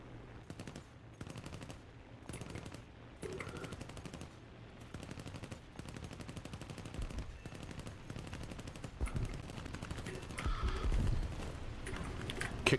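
Rapid bursts of machine-gun fire come from B-25 bombers in War Thunder. The clattering rattle is loud and nearly continuous, swelling and easing across the stretch.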